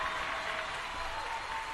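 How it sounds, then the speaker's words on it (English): An audience applauds at a retro recollections event, a brief, dense wash of clapping heard fairly close and steady throughout. "she definitely deserves a round of applause"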